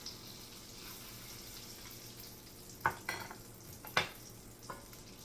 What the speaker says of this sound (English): we're going to stir this and just let this cook until it gets thick